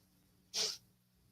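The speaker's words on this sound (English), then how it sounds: "I also have a stuck sneeze, so it's like trying to come out" A single short, sharp sneeze bursts out close by after a stuck sneeze, lasting about a quarter second against a quiet, faintly humming background.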